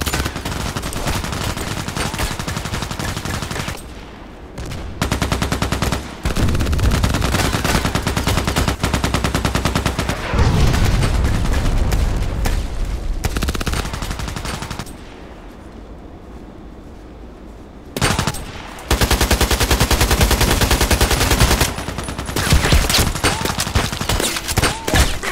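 Long bursts of rapid automatic fire from an AKMS rifle in Contract Wars, loud and close, broken by short pauses and a longer lull mid-way before the shooting resumes.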